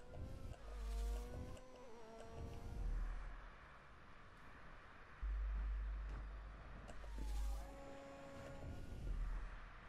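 A car in GTA V, driven as Franklin, revs hard and accelerates fast, its engine whining upward in repeated surges against a low rumble, moderately loud with no talking.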